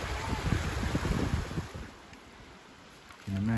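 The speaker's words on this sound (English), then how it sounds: "Nice little breeze as well." Light breeze blowing beside a river at Birdoswald Roman Fort on Hadrian's Wall, a steady rushing wind noise over the microphone that eases off midway, with a brief low thump near the end.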